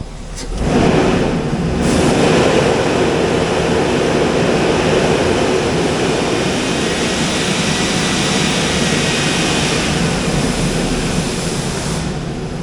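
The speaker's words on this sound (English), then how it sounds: "Oh, but the motor sounds okay." The 6.0L LQ4 engine of a 2004 Hummer H2 runs steadily at idle, a continuous loud broadband rumble with a low droning undertone that holds even throughout, with no voices over it.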